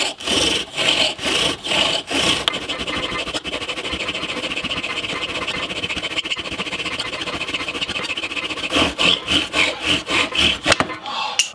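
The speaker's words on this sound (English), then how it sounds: "we're gonna see if we can't do the bow and spindle method." A wooden spindle turned by a bow drill rubs against a wooden base to start a fire. Loud back-and-forth strokes open and close the stretch, with a continuous squealing grind between them.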